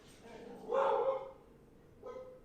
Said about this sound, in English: Both dogs are barking.